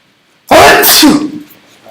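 A single sharp, loud sneeze bursts out suddenly after near silence, followed by a brief fading exhale.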